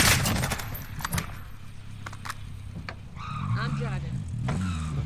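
Vehicle engine hum in a Warzone match, a steady low drone that rises in pitch near the end, with sporadic gunshots and game radio chatter over it.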